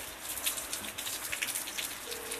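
Steady rain from a storm patters on a surface, a soft continuous hiss with scattered drops, fairly quiet and with no voices.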